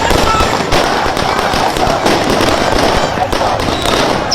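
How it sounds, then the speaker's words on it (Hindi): Fireworks set off in celebration in Tehran, Iran, a loud, continuous crackling barrage of pops and bangs with crowd noise and voices mixed in. "आतिशबाजी हो रही थी ईरान में"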